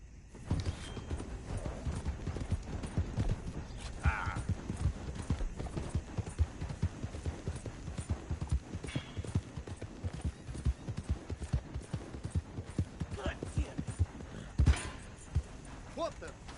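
A horse gallops in Red Dead Redemption 2 with a steady, rapid clip-clop of hooves running throughout, and a voice speaks briefly over the hoofbeats.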